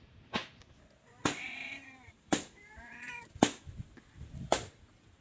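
A cat meows several times at intervals of about a second, loud and close, with sharp clicks and handling noises between the calls.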